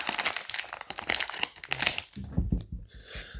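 Foil wrapper of a Magic: The Gathering Foundations booster pack crinkled and torn open up close, a dense run of crackling rips followed by a few softer crinkles and a brief rustle at the end.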